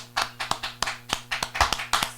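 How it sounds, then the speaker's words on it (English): A series of about a dozen sharp hand claps at an uneven, lively pace, close and fairly quiet, with no talking over them. "we give our own hand claps"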